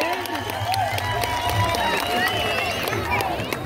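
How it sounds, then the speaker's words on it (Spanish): Crowd at a rural bull-riding rodeo in a Oaxaca village, applauding and cheering a rider: steady crowd noise with scattered claps and voices mixed under a busy, reverberant din. "Motívelo con el aplauso."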